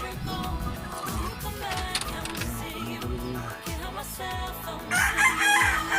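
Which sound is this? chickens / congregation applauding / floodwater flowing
chickens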